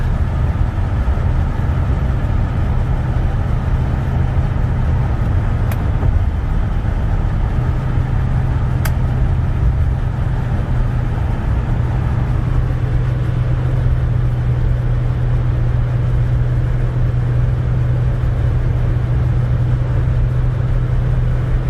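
A Chevrolet C10 Silverado pickup with a 350 V8 and three-speed automatic drives along, its engine a steady low droning hum heard from inside the cab, with constant road rumble and a slight shift in tone partway through.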